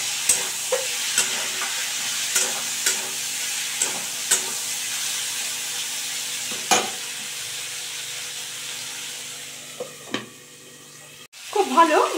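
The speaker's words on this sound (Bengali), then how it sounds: "আমি এইভাবে ঢেকে ঢেকে ভালো করে মিশিয়ে নিচ্ছি, তাতে বেশ টমেটোটা মজে যাবে।" Green tomatoes frying in a pan, a steady sizzle broken by repeated sharp spoon taps and scrapes at irregular intervals, with a brief voice near the end.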